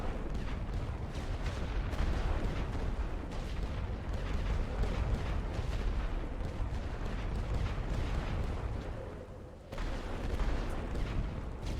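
Massed guns firing in the World War I strategy game Great War, a continuous dense roar of booming artillery and gunfire rolling on without pause, loud and steady.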